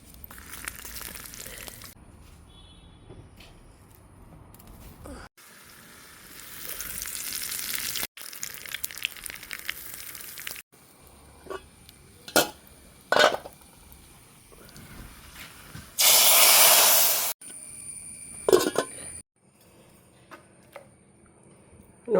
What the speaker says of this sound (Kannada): ಕೆಳಗಿಟ್ಟು ಇದಕ್ಕೆ ಒಂದು ಒಗ್ಗರಣೆಯನ್ನು ಹಾಕ್ತೇನೆ.